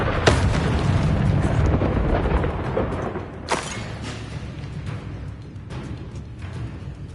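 The Bombarda spell in Hogwarts Legacy sets off a loud, near explosion that opens with a sharp blast and rolls into a dense, rumbling roar. A second crack-like burst follows midway, then a long, steady debris rumble.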